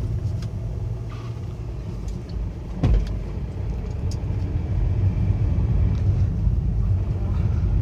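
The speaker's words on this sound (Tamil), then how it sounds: "இப்போ நான் பிரேக் பிடிச்சி திருப்பி செகண்ட் கியர்." A car coasting on an open road is slowed with the brake and shifted into second gear: a steady engine and road rumble from inside the cabin, with one brief clunk partway through.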